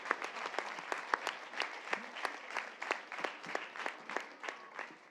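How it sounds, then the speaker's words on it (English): Sparse, quiet applause from a small audience after young children perform at a cultural program, individual claps standing out at an uneven rhythm. "let's give the little ones another round of applause"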